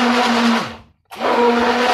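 Blender whirring loudly as it mixes gluten-free crêpe batter for apricot-jam crêpes, running steadily, cutting out for a brief moment, then starting up again just as loud.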